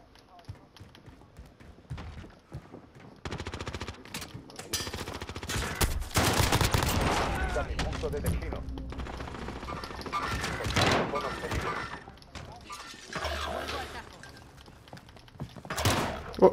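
Gunfire rattles through a Call of Duty Modern Warfare match: bursts of shots, machine-gun fire and thuds recur over about sixteen seconds. Players talk over much of the shooting.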